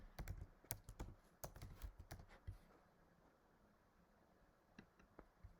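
Password keys are tapped on a computer keyboard in a quiet room, a quick burst of crisp clicks with short pauses, then sparse final taps, faint and close.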